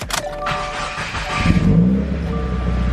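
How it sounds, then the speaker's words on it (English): A 2015–2021 Subaru WRX with a Perrin turbo sump starts up: a short mechanical whir and crank, then the engine catches and settles into a steady, close idle rumble. "Then that's it. Let's start the car."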